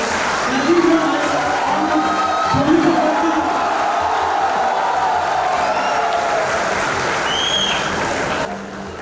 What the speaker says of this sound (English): So please give a clap.